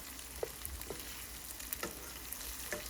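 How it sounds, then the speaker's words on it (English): Meatballs browning in a pan, turned to cook on each side, give a steady close hiss of frying fat with faint scattered pops and crackles, and no talking. "I turned over a lot of the meatballs so they can be browned on either side."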